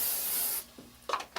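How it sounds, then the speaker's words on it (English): A steady hiss of Motions Oil Sheen sprays onto hair for about half a second, then stops, followed by soft rubbing and handling noises close by. "So I just spray oil sheen in the hair for my clients like that."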